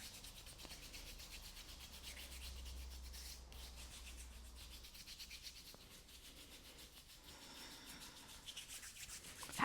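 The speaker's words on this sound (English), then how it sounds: "you might just rub the palms together, maybe the fingers. Might even go in between the fingers." Palms of the hands rub together during a gentle seated chair yoga session, a soft, steady swishing friction heard close and continuous with no talk.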